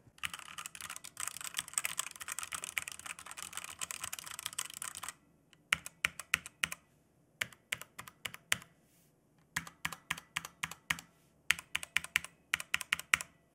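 Keys clatter on a Redragon Draconic budget mechanical keyboard: several seconds of fast continuous typing, then short bursts of crisp clicky keystrokes separated by brief pauses, close up and alone.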